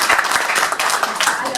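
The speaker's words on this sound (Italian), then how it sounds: "Un applauso di incoraggiamento." Brief burst of encouraging audience applause at a union gathering, loud and close, mixed with murmuring voices and some individual sharp claps.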